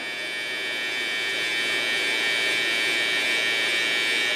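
An electric hair clipper runs through a low taper fade haircut, giving a steady, close, unbroken buzz with a bright whine that holds level for several seconds, with no talking.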